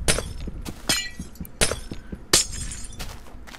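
Glass blocks break in Minecraft, several sharp crisp shattering clinks spaced irregularly over a few seconds, with softer block-hitting taps in between.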